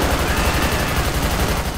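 Assault rifle fire in a GTA 5 gang shootout, a dense, continuous automatic burst of rapid shots that stays loud and close throughout.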